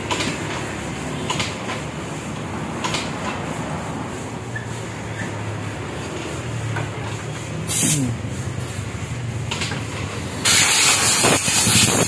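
Compressed air sprays into a waterlogged Vespa engine in a workshop, a loud continuous hiss with brief bursts, swelling into a stronger blast near the end.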